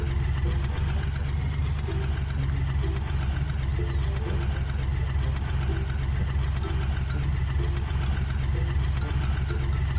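A tractor engine idles in Farming Simulator 19, a steady low chugging drone with a faint rhythmic knock, even and unbroken throughout with no talking.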